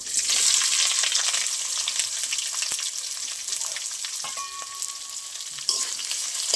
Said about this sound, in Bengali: এবার পেঁয়াজগুলো ভালো করে ভাজতে হবে, এইভাবে লাল লাল করে ভেজে নেবো।